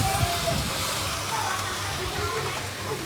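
Cabbage and pork stir-fry in a hot pan, a steady sizzling hiss close up with faint stirring clatter and low background sounds throughout.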